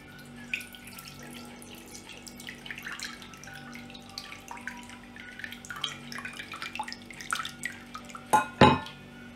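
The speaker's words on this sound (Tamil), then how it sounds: "இப்போ கரைச்சி வச்சுருக்க புளியை வந்துட்டு ஒரு பாத்திரத்தில் வடிகட்டிடலாம்." Soaked tamarind water strained into a vessel for an anchovy fish curry: quiet trickles and scattered drips, followed by a louder splash and clink of the vessel near the end.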